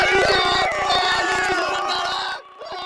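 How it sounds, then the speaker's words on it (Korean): BTS members cheer and shout together with their fan club ARMY after a Billboard chart win, a loud, dense burst of excited voices that carries on throughout and drops off briefly near the end. "멤버들은 환호성을 지르며 팬클럽 아미와 기쁨을 나눴습니다."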